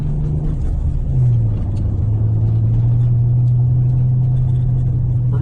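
Ford Mustang rolling over gravel, a steady low engine rumble with a faint crunching wash of loose stones, close and constant with no talk.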